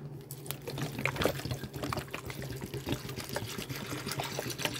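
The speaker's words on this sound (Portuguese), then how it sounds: "Vamos colocar aqui 2 litros de água." Water poured from a container into a pot holding 1 kg of beans, a steady splashing trickle that runs continuously and fairly close throughout.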